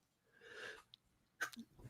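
A single sneeze from a person, fairly quiet, with a sharp burst after a breathy intake and a few soft breathing noises around it.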